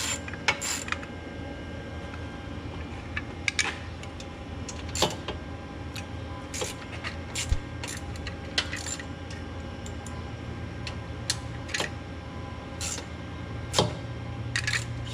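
A hand wrench ratchets and clicks while an Eibach front sway bar goes onto a 2017 Dodge Challenger R/T, sharp metallic ticks coming in irregular bursts over a low garage hum, close by, with no one talking.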